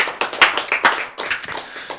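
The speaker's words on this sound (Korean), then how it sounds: "여러분 왜 박수를 쳤어요?" An audience at a Korean lecture breaks into a short burst of dense, crisp hand clapping, close and loud, rising and easing over about two seconds with no talking.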